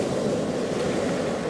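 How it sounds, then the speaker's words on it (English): Ocean surf pulls back over a rocky shore, a steady, close, dense rush of water and tumbling stones that fills the whole moment with no voices. "the wave pulls back, the rocks tumble down"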